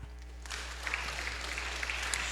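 A church congregation breaks into applause, a dense, steady clapping that rises after a brief quiet start and holds fairly loud to the end with no talking over it.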